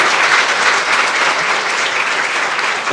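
Audience applause at a women's leadership luncheon, a close, dense and steady round of clapping from a crowd lasting about three seconds.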